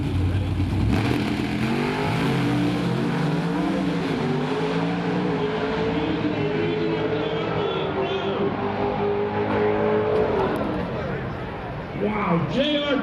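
A drag race car at an NHRA national event launches hard off the starting line, its engine roaring and revving loudly and steadily for several seconds while an announcer talks over it.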